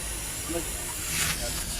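A steam cleaner blasts hot steam through a car's radiator and heating pipes, producing a continuous close hiss with a brief louder burst, while faint voices murmur underneath.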